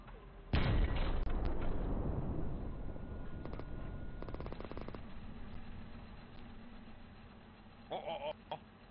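A single heavy tank cannon blast in Hell Let Loose booms out loud and close, followed by a long rumbling decay with scattered mechanical clicks and a brief rattle near the end.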